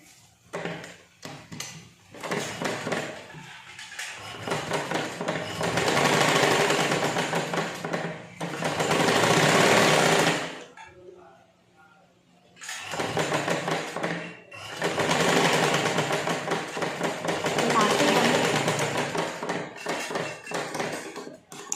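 Electric sewing machine stitching tucks into a blouse, running in two long bursts of several seconds each with a short pause between, loud and close with no talking.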